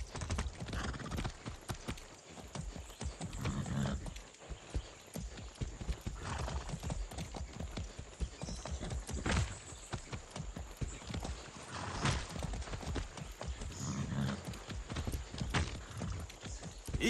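A horse's hooves clip-clop at a steady walking rhythm in the Far Cry 6 video game, close and continuous, with occasional neighs and whinnies rising over the footfalls.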